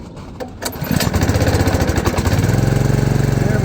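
A petrol-engined pressure washer sputters on cold start, then settles into a loud, close, rapid uneven chugging as it runs rough with too much choke, with no voices over it.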